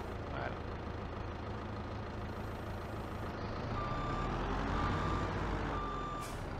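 A Liebherr loader on a farm yard grinds along with a low, heavy engine drone. The engine swells toward the end as a run of three evenly spaced reversing beeps sounds nearby.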